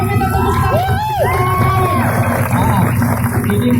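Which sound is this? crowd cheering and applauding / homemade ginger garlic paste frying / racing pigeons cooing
crowd cheering and applauding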